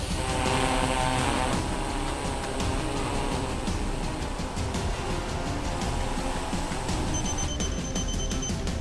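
A drone in PUBG Mobile's snowy Vikendi map drones on loud and steady, a continuous propeller whir with a high whining edge that runs the whole time, no voices over it.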